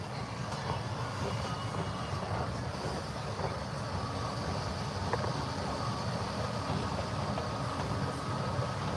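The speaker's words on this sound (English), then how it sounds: "Well, that's MRT." An MRT SkyTrain in Bangkok rumbles past on an elevated track, a steady broad roar with low mechanical drone and city noise, fairly loud and continuous throughout without speech.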